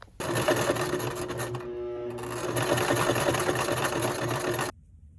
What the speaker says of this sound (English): So let's get to sewing.